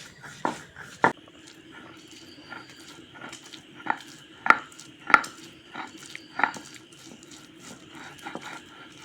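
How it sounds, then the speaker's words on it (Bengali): Mustard seeds with ginger and green chilli are ground into a paste in close, rhythmic scraping strokes punctuated by sharper knocks. "এখন ডাঁটা চচ্চড়ির জন্য সর্ষে বেটে নেব।"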